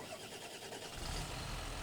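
A John Deere tractor engine starts up, turning over briefly and then catching into a low, steady rumble at moderate, fairly faint volume, with no speech.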